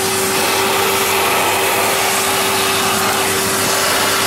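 A vacuum sucks meltwater out of an iced-up refrigerated display cabinet during defrosting, making a loud, steady motor roar with a constant whining tone and no speech.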